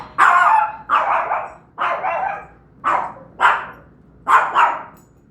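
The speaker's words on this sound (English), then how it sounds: "The only real time you ever hear him bark is when the doorbell rings or somebody knocks." A dog barks loudly and close, reacting to a ringing doorbell, about seven sharp barks in uneven bursts with short pauses between.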